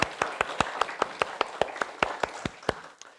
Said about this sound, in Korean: 우리 하나님께 감사의 박수 올려드리겠습니다.